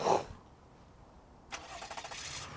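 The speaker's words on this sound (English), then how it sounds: "on a gasoline engine like this Highlander here, you're gonna hear the engine rev right away" A Toyota Highlander's gasoline engine, started by remote start, cranks and catches with a brief burst, followed by quiet, then settles into a steady running hum with rhythmic pulses.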